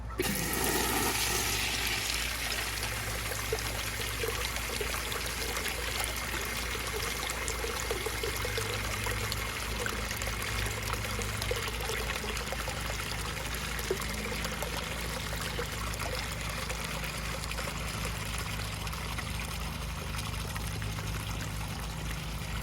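A Universal Rundle Colburn urinal flushes with a steady, loud rush of water that runs continuously, then settles into slow draining and trickling; no one talks.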